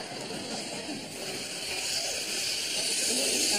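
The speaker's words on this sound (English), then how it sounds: "Got a built-in compressor and motor." Compressor and motor switched on in a wearable vacuum cleaner: a steady, loud hissing whoosh with a constant mechanical drone that grows slightly louder as it runs, with a voice over it.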